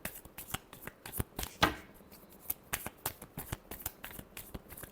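Tarot cards are shuffled by hand in quick, irregular riffles and flicks, giving close, crisp papery bursts with one sharper snap partway through, with no voices.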